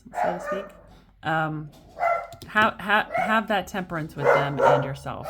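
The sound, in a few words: dog barking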